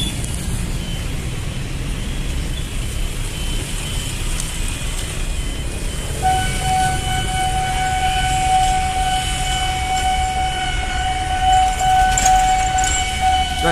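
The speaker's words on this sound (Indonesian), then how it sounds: "Nggak tahu apa nih kereta yang lewat." A video game train rumbles past steadily and loudly, with a sustained horn-like tone joining halfway through, and no talking.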